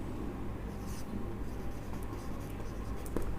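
Chalk or marker writing on a board during a chemistry lecture, a steady soft scratching and rubbing that runs continuously for a few seconds, fairly faint over room noise.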